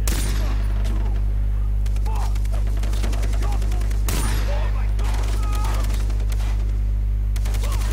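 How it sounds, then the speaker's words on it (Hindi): Rapid gunfire from the video game Far Cry 3, with bursts of shots and fusillades cracking through the whole stretch over a steady low hum, loud and close. "और क्या शूट किए कर रहा हूँ भाई।"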